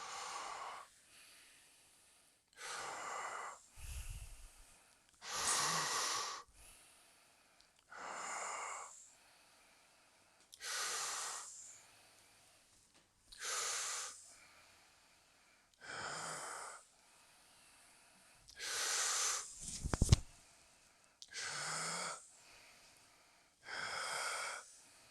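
Deep power-breathing exercise: about a dozen slow, forceful breaths in and out through the nose and mouth, each a loud airy rush separated by short quiet pauses, close and alone with no talk.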